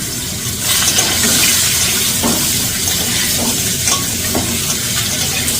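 Chopped vegetables hit hot oil with cumin in a pan, sizzling loudly and steadily as they fry, with occasional scraping stirs over a constant hissing wash.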